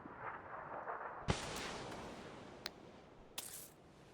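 A grenade explodes in a PUBG match with a sharp broadband blast, then a dense sustained rumble, followed by a few isolated gunshot cracks at a moderate distance.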